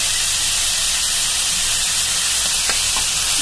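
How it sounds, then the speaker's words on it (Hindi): Onion and carrot sautéing in a pan over a gas flame, giving a steady, close sizzling hiss that runs unbroken with no voices. "ज्यादा इसे गलाना नहीं है, बस ऐसे थोड़ा सोटे करते रहना है"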